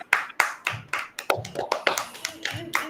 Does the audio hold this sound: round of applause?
yes